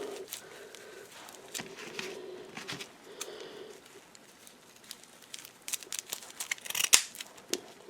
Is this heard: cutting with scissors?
yes